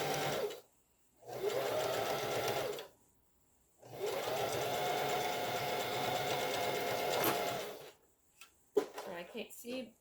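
A sewing machine stitches a pet collar and necktie in two long runs of steady whirring with brief pauses between, ending with a few short mechanical clicks and handling noises.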